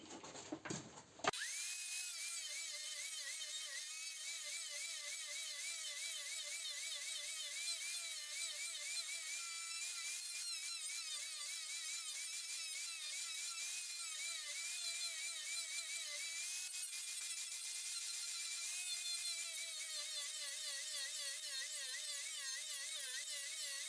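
A homemade disc cutting into wood whines continuously at a high pitch, the tone wavering slightly as the load changes, loud and steady for a long stretch after a short rough start.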